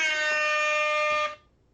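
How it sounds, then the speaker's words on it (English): A single loud air horn blast holds a steady, brassy tone for just over a second, then cuts off abruptly, leaving near silence in a lecture setting. "if the air horn gets annoying"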